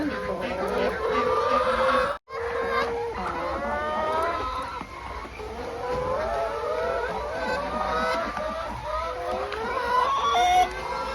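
A flock of about forty hens at a small egg-laying chicken farm in the morning, clucking and cackling steadily and fairly loudly throughout, with a brief cut early on.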